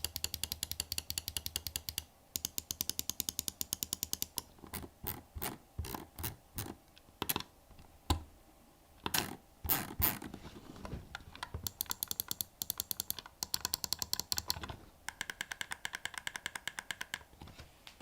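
Razer Basilisk V3 gaming mouse buttons with optical switches click in rapid, crisp bursts, close and quiet, with short pauses between clusters of fast repeated taps.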